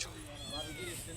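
Cat meowing faintly at an outdoor chicken barbecue and bonfire party, a short drawn-out mew with a person talking over it.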